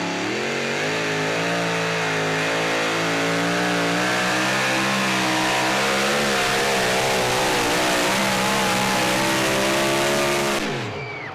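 Big Ed Red, an unlimited super stock pulling tractor, roars at very high RPM during a pull in Saluda, South Carolina, a loud sustained engine wail with wavering pitch that holds steady for around ten seconds before dropping off.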